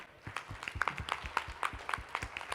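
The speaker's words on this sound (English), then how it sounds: "Please give a round of applause to Gerard Moorer" Audience applause for speaker Gerard Moorer at an awards event, a steady patter of many hands clapping at moderate loudness over about two and a half seconds.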